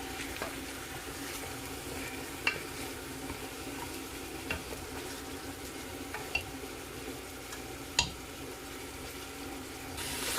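Oxtail frying in a pot, a soft continuous sizzle with occasional clinks and stirring knocks, heard up close and without talk.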